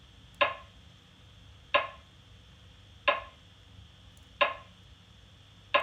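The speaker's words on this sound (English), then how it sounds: "we start off with this rim sound that I use as like a snare" A dry, sharp rim click repeats five times at an even, slow pulse, each hit crisp and bright with a short decay over a faint low hum.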